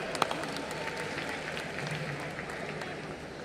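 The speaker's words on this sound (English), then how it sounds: "Round of applause for them." Faint, distant audience applause at a film festival closing ceremony, a steady soft wash of clapping from a large hall with a few sharper claps near the start.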